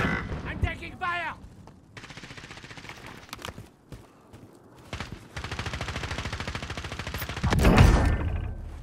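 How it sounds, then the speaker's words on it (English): Rapid bursts of gunfire in the video game Call of Duty: Warzone, loud and sustained, with a voice talking over parts of the exchange. "I'm taking fire."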